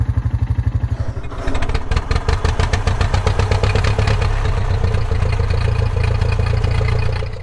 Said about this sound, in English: going on a little four-wheeler ride down Canal Road here